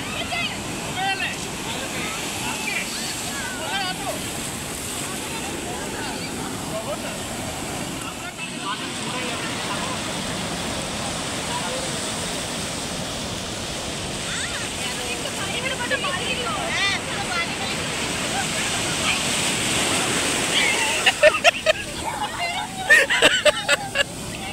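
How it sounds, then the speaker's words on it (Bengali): Sea waves breaking on Puri beach in the evening, a steady broad wash of surf rolling throughout, with distant crowd babble and voices mixed in and rougher surges near the end. "সমুদ্রের ঢেউয়ের আওয়াজ, এই প্রকৃতি, মানে এখন এটাই এনজয় করছি"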